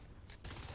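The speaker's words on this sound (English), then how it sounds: "Nice shooting here by Evil" Rapid gunfire in the Natural Selection multiplayer shooter, a dense burst of shots starting partway through the brief clip and running to its end, loud and close.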